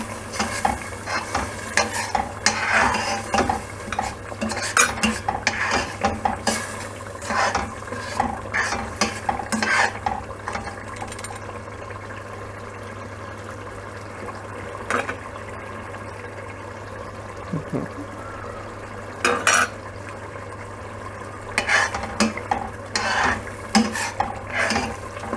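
Spices being stirred in a chicken biryani pot, repeated scraping and clanking strokes of a spoon against metal over a low sizzle, with pauses between bursts of stirring, close and fairly loud.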